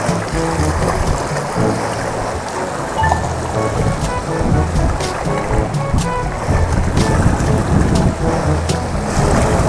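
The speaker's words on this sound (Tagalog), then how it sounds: "malakas ang hangin" Strong wind buffets the microphone in continuous gusts, with the rush of water and waves underneath, while fishing.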